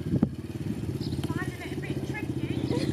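A motocross bike revs in second gear with a steady throbbing engine note close by, running under a voice talking throughout.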